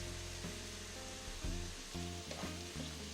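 Ivy gourd sautéing with onions in a pan, a faint steady sizzle with a few scraping stirs and soft utensil knocks, quiet and close with no talk.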